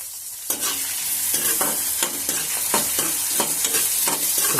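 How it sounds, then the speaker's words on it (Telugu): Green chilies and onion pieces fry in hot oil with a loud, continuous sizzle, while a spoon scrapes and stirs the pan in regular strokes about twice a second, close up with no talking. "ముక్కలు వేసుకుని అవి కూడా మనం నూనెలో బాగా వేయించుకోవాలి"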